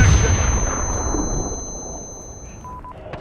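A loud grenade blast with booming gunfire in Call of Duty Modern Warfare multiplayer on the Shoot House map, a heavy burst that rolls off into a long fading tail, with high electronic tones and a faint clank near the end.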